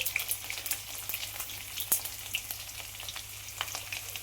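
Garlic cloves frying in a pan make a fine, soft crackling sizzle with scattered pops and a spoon tick now and then, fairly quiet and alone.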